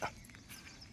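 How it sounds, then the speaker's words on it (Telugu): A single short dog bark or yelp right at the start, faint and distant, followed by quiet background. "ఇదిగో తల్లి కుక్క"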